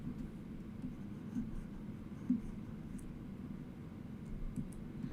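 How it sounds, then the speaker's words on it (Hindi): Handwriting on paper during a math lesson, a soft continuous scratching of pen strokes, quiet and close, with faint room hiss and no talking. "तो यहाँ पे हम लिखते हैं मतलूब।"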